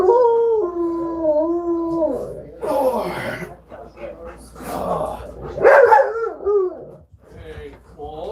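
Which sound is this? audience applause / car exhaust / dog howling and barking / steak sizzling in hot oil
dog howling and barking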